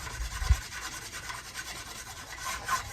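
Sandpaper rubbing along a dogwood arrow shaft in steady back-and-forth strokes, a close, soft rasping with a light bump near the start.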